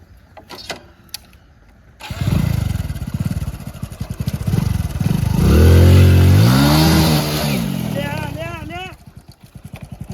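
A motorbike starts up about two seconds in and is revved hard, the loud engine roar swelling to a peak before easing back, with voices talking and calling over it.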